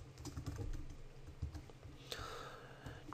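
Someone types a database name on a computer keyboard, a quick run of soft, close key taps at low level with faint background hiss.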